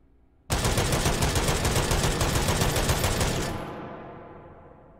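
Lahti M26 machine gun firing fully automatic, open bolt, in the VR game H3VR: a loud continuous burst lasting about three seconds, then a long fading echo.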